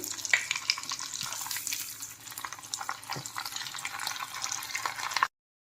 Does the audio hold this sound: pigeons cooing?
no